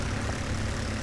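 Propeller airplane flying over a desert battlefield in the World War II game Forgotten Honor, a steady droning engine hum held close and loud for about a second, with no talk.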